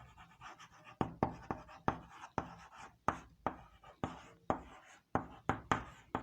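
A pen writing on paper during a physics lesson, heard as a steady series of sharp scratchy strokes and taps, roughly one or two per second, close and fairly quiet, with no one talking.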